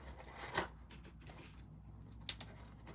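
A couple of quick, soft snips from scissors trimming ribbon, close by and quiet, with no talking.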